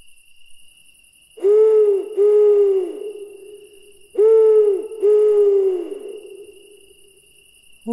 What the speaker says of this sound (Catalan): obre els ulls el vell mussol